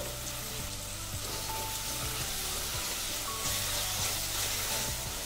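Ginger garlic paste sizzling steadily in hot oil with curry leaves and a pinch of turmeric for a hotel-style poori curry, a dense close crackle with occasional stirring scrapes.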